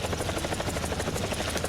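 A helicopter in the Roblox horror game Frigid Dusk drones loudly and close, its rotor throbbing in a steady, rapid pulse throughout with no voices.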